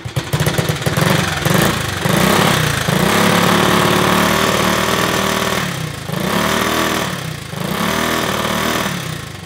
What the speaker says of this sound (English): fired it up and it's still spitting and sputtering